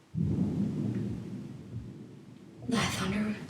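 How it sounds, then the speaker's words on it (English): Loud thunder rumbles low and steady during a storm, then swells into a second sharper crack and roll near the end, with no voices heard. "That thunder is so loud, it's scary."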